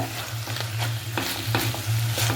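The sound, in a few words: mashing cooked koorka (Chinese potato) in tamarind curry pot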